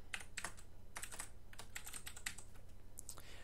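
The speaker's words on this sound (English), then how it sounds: "Oh my god, I can't type today." Fast, uneven bursts of clicking keystrokes on a computer keyboard, close and fairly quiet, with short pauses between runs of typing and no talk.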